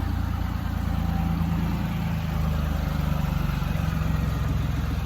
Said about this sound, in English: Listen to the sound of the engine run.